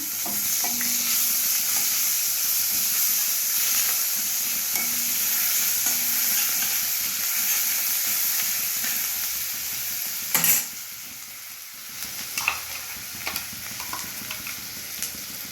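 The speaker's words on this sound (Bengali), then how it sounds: "এবার আমি অল্প একটু পেঁয়াজ বাটা দিয়ে দিলাম" Onion paste sizzling and frying in hot oil with tempering spices and torn dried chillies, a steady broadband hiss with occasional stirring scrapes and a sharp clatter near the end.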